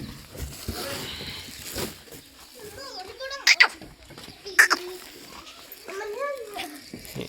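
Goats bleat in a few short, wavering calls at moderate distance, set against a quiet outdoor background with people's voices murmuring nearby.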